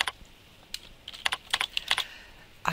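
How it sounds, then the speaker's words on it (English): Fingers tap out a name on a computer keyboard in an irregular burst of crisp, close keystrokes, some quick and clustered, in an otherwise quiet room. "I type in the name of the rep."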